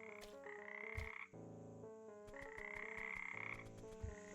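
Frog croaking in the video game Frogmonster: repeated loud, tonal croaks fill the clip, layered over the game's steady ambient score with no talking.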